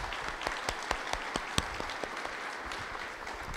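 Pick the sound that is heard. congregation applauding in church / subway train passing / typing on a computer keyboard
congregation applauding in church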